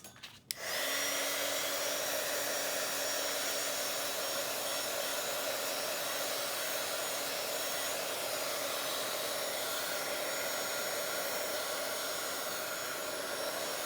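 Heat tool or hair dryer briefly drying paint on a Bible journal page, switching on with a click and then blowing as a steady, close whooshing drone with a faint whine for the rest of the time.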